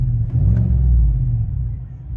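Deep interior growl of a 2019 GMC Sierra 1500 AT4 6.2L V8 through a Flowmaster Super 10 dual exhaust, a low, steady rumble swelling briefly, then easing, heard from the cab.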